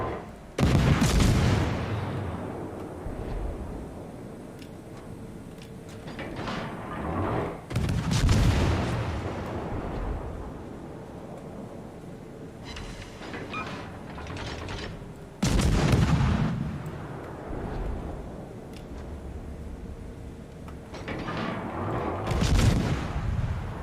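Naval guns fire in World of Warships, four heavy booming salvos spaced several seconds apart, each with a sharp blast and a rolling tail, over a low ambient rumble.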